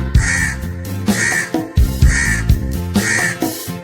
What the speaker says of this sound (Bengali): খুশি হয়ে কাক ডাকে কাক কাক কাক